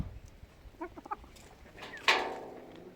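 Laying hens cluck in a yard while being fed earthworms, a few quick soft clucks followed by a sharper, louder squawk close by.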